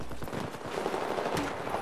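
Rapid gunfire crackles from an F2000 assault rifle in Battlefield 4, a dense, loud burst of shots with busy battlefield noise around it.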